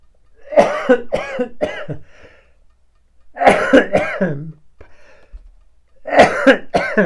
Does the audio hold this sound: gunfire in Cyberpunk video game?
no